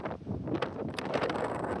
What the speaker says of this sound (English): It is grey, it is raining, it is windy